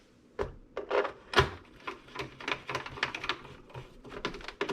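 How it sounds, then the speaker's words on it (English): A few sharp clicks and ticks come from driving six screws into the top cover of an Original Xbox console. The taps are close and irregular, spread over a few seconds with nothing else around them. "The boring part of putting in these 6 screws."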